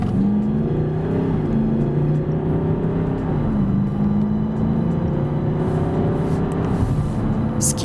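A 2013 Range Rover's 4.4-litre turbo diesel engine, rated at 340 horsepower, pulls hard under steady acceleration, giving a continuous loud, rising drone with a deep rumble that holds throughout.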